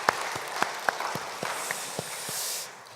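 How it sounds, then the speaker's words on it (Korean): A church congregation claps for the choir during a Wednesday service: scattered, fairly slow hand claps over a hushed room, fading out near the end. "우리 샬롬 찬양대를 위해서 우리 같이 박수 한번 하겠습니다."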